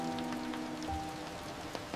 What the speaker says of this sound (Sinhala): මේක මාර වැස්සක්.